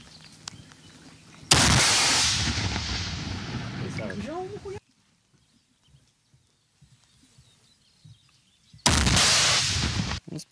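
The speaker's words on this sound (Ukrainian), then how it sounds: "армійці беруться за РПГ, в які заряджають міни калібру 82" Two loud blasts ring out, separated by a long quiet stretch, each with a rumbling tail, as an RPG launcher loaded with 82 mm mortar rounds fires at an enemy dugout on a Ukrainian front-line position.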